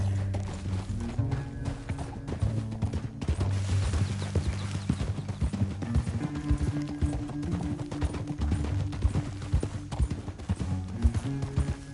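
Horse hooves clip-clopping in the Western video game Red Dead Redemption 2, a steady rhythmic trot running throughout over a bed of game music, with an occasional snort or whinny.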